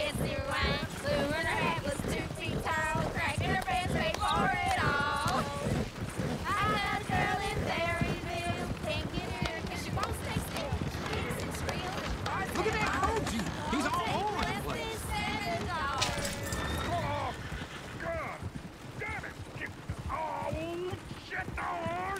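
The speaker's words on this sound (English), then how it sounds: "get the horses! Damn horses!" Horse hooves clip-clop in Red Dead Redemption 2, a steady rhythmic trotting under dense overlapping speech and game sound through most of the stretch.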